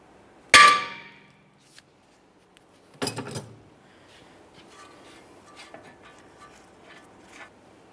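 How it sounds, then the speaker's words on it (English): Hammer blows strike a Ford Fusion steering knuckle to free the outer tie rod: one loud, sharp metallic clang near the start, then a quick cluster of ringing taps, followed by quieter shop rustling. "I'm going to tap on the knuckle here, attempting to break this free."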